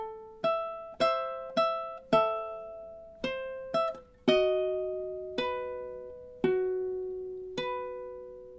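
Ukulele picking a measure of the Luigi's Mansion main theme, single clear plucked notes in a steady rhythm, each ringing and decaying, close and alone with no talking.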